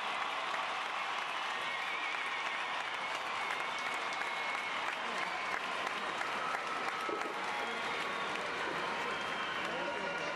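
Audience applause at the end of a tennis match between Nadal and Djokovic, a steady, dense clapping from a crowd sustained for about ten seconds without a break.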